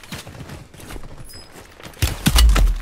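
Gunfire aimed at the player in the Call of Duty Warzone video game, faint scattered shots early on, then a loud burst of several close, heavy shots near the end.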